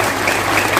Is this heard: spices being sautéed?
no